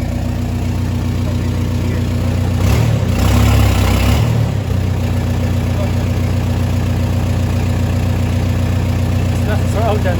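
A Skoda Octavia idles with a steady, close, droning engine hum and a brief louder rev near the start, while people talk over it.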